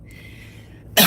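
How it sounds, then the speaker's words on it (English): A single sharp, loud cough breaks out near the end after a short stretch of quiet room tone with a faint high background hum. "I got my cough."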